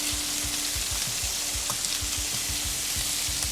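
Peppers and onions frying on a Weber Slate flat-top griddle, a dense continuous sizzle close by with a rhythmic low thumping and a faint steady hum underneath.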